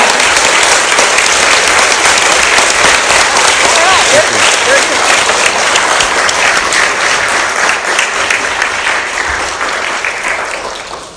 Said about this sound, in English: So I would like you all to give this to Dr. Perlin a round of applause